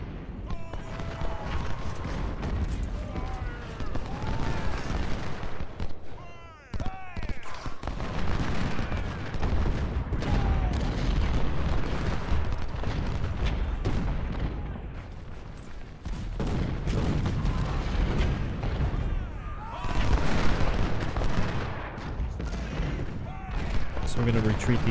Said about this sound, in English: Let's just focus cannon fire on pretty much everybody.